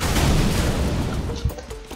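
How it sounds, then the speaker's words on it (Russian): A booming explosion in Goat Simulator, a loud broad rumble that swells at once and fades over two seconds, with a small thump near the end. "Взрыв?"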